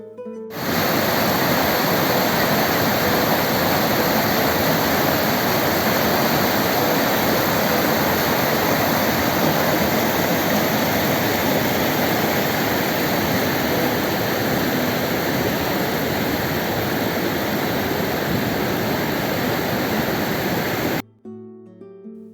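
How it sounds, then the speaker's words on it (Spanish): Water rushes steadily through a mill channel beside the Eresma River at the San Lorenzo mills in Segovia, a loud, continuous roar that stays even and unbroken. "donde terminaba de pasar el agua del caz, camino del molino y después ese agua regresaba al río"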